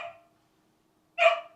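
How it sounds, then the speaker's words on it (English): A pet dog barks twice indoors, a short faint yip followed after a pause by a sharper, louder bark. "Do you think my dog wants to come in here?"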